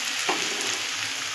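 Potato and onion frying in a pan while being stirred, a steady bright sizzle with a brief scrape of the spoon near the start, close and continuous, no talking.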